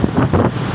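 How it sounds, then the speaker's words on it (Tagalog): Very strong wind roars in a loud continuous buffeting rush across the microphone at Marseille port, with no talking. "Sobrang lakas po ng hangin"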